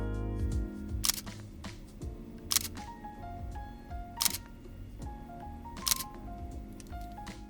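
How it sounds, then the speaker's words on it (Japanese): Four crisp Fujifilm X-S20 mirrorless camera shutter clicks fire at roughly even intervals, close and clear over quiet background music. "ちょっとシャッターの音聞いてみてください。"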